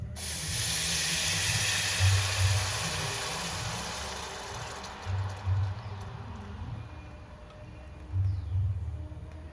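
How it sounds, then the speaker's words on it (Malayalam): Jaggery syrup poured into a hot, heavy uruli pan gives a loud spraying hiss that gradually fades, with low rumbling bursts recurring underneath and no talking. "ഇതിലേക്ക് നമുക്ക് ശർക്കരപ്പാനി അരിച്ചൊഴിച്ച് കൊടുക്കണം"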